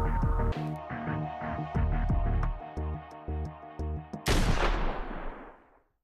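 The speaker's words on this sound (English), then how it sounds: "I guess we'll just start off with the basic SMGs, see what happens" Video game SMG fire in Gun Club VR: bursts of rapid, booming shots pounding in close succession with steady rhythmic clicks, ending in a loud blast that rings out and fades to silence.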